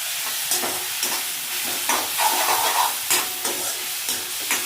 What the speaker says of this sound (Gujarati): એને પણ થોડી વાર માટે ફ્રાય થવા દઈશું. ગેસ મીડિયમ આંચ પર રાખીશું.